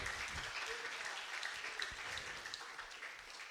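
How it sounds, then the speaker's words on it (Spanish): Congregation applause during a church sermon, a steady wash of many hands clapping together across the whole stretch, moderately distant. "Den un aplauso al Señor porque es por Él."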